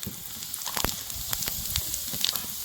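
Cumin seeds dropped into hot leftover oil from fried potatoes, crackling and popping in quick irregular bursts over a soft steady sizzle, close and fairly quiet.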